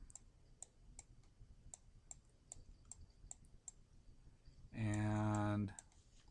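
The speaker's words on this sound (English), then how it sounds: "I noticed my mouse clicks kind of loud" A computer mouse clicks sharply and regularly, about one or two clicks per second, close and crisp over quiet room tone, with a short loud tonal burst partway through.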